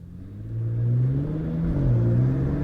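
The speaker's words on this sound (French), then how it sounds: "Porsche Panamera. Pas mal devant l'Arc de Triomphe." Porsche Panamera engine revving outside the Arc de Triomphe in Paris, a loud, steady mid-pitched growl that swells and holds with rising and falling pitch, with no voices over it.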